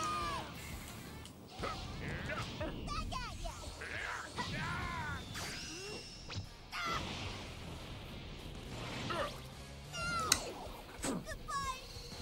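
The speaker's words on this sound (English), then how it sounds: "I'm sorry if you can hear my cat going to the bathroom in the background" A cat is heard in the background as it uses the litter box, with scratching, scuffling and a few meow-like sounds under ongoing game audio and a voice.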